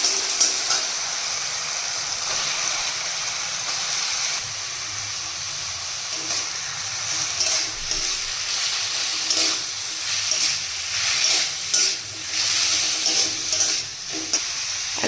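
Radish pieces sauté in hot oil with tomato, salt and turmeric, giving off a steady bright sizzle and hiss, with the scrape of stirring coming and going in waves throughout.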